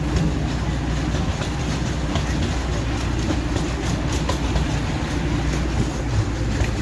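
A holiday light festival train ride at Griffith Park rolls along its rails with a steady, loud rumble and faint clicking, continuous and close throughout, with no clear talk over it.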